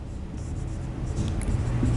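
Chalk or marker scratches across a classroom board in a short run of strokes, close and fairly clear with no talking over it.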